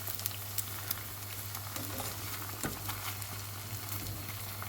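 Puff pastry frying in hot, quickly burning oil, a quiet continuous sizzle and crackle with scattered small pops, heard alone.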